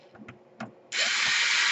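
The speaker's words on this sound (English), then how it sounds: "you have to unscrew all of the screws right here." A small electric screwdriver runs steadily after a few faint clicks and taps, backing out long screws from an Asus G55 laptop during screen replacement.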